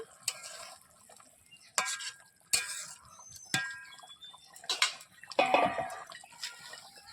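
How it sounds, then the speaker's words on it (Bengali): Bengali fish curry, macher kosha, being stirred in a pan: soft intermittent scrapes and clinks of a spoon against the pan, with faint sizzling and quiet gaps between strokes. "একটু নেড়ে চেড়ে দেবো।"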